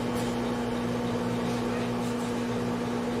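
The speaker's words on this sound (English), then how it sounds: "What is going on with the microwave?" Microwave oven running, likely a fault, a steady loud hum with a strong constant drone and broadband whir, continuous and close with no talk.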